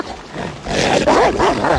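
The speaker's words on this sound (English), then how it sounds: "This dog is too dumb. It's too big." A large sled dog on a Klondike trail barks and whines close by, a few rising and falling yelps building in the second half of a short burst with no talk.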